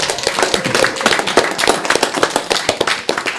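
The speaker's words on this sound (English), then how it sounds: "Give a round of applause." A council workshop audience gives a round of applause, many hands clapping close and loud in a brisk, uneven patter that holds for several seconds.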